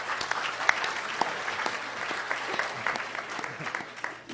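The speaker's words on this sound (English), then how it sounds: "Can we get a hand of applause?" An audience at a panel talk applauds with steady, moderately loud clapping that holds for several seconds. A few sharper claps stand out, and faint voices sit underneath.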